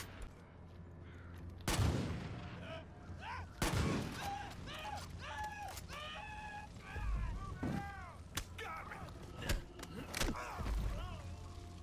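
Gunfire in the video game Far Cry 5: several sharp broadband shots fired through a window at irregular intervals, with other game effects and speech-like sounds between them.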